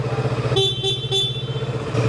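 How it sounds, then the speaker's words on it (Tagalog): Three short honks from a 2023 Kawasaki Z650 motorcycle horn sound in quick succession over a close, chugging idle engine, followed by a brief fourth toot. "Busina."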